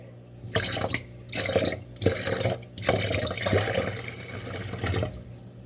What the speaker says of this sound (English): So now we add the water to the milk.